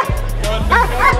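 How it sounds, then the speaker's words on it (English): Armor K9 protection dogs bark and yip close by in short sharp bursts, with a whimpering edge and people talking over them. "Armor K9 protection dogs. These dogs are legit"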